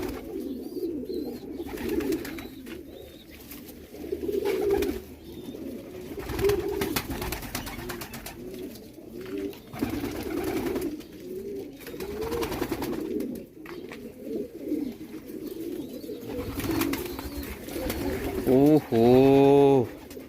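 Pigeons in a loft in Multan coo in low, steady, murmuring tones, heard close throughout while someone talks over them, with a brief louder flutter near the end.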